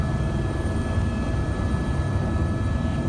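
Helicopter flying over Dubai on a tour flight, a loud, steady rotor and engine roar filling the whole stretch without a break, heard from inside the cabin.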